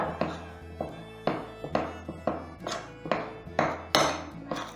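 A knife chops 3 ounces of cold butter on a board for maids of honour pastry. About a dozen sharp, close thuds land in an uneven but steady rhythm, with no voice.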